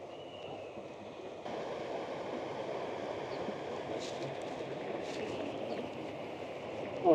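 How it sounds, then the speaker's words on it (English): The Gotthard Panorama Express train pulls away near a lake, a steady broad rumble of rolling wagons that swells slightly as it departs, loud and continuous with no voices. "Yeah, there goes our train."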